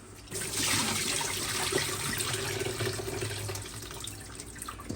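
Water thrown over pork chine while it is cleaned, a close steady rush and splash of pouring water that swells and holds.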